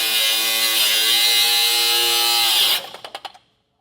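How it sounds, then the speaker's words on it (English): Power cutting wheel slicing through rusted bolts on a trailer suspension, a steady loud high-pitched whine for nearly three seconds, then cutting off into a few brief spinning-down bursts and silence. "I'm going to go ahead and just cut them off. I've got a cutting wheel here"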